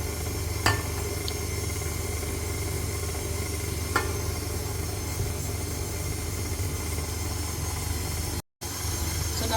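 Steady, continuous drone of an electric mixer on low speed working softened butter into orange bundt cake batter, running evenly throughout with a couple of faint clicks and one brief dropout near the end.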